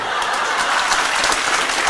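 An audience claps steadily at a talk given by a civil services officer, dense, continuous applause that fills the room with no speech over it.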